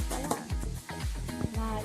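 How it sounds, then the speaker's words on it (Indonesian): Rice being stirred into boiling coconut milk in a pot for burasa, a Makassar rice dish, giving repeated scraping and stirring strokes with a steady bubbling simmer underneath, fairly close and loud, no talk. "Kita aduk terus sampai mendidih."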